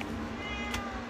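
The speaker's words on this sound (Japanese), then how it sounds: "食が遅い痩せ気味の飼い猫にということで" A slender, slow-eating house cat meows once, a single clear mid-length call heard close indoors over a low steady hum, with no talking.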